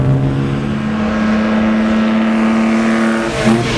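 A 60-degree V6 car engine holds a steady, loud droning roar with a strong low tone, then shifts slightly near the end as it accelerates.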